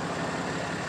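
A Dodge conventional wrecker tow truck fitted with a Snatch Stinger idles nearby, its engine giving a steady broadband rumble with a faint low throb and no voices.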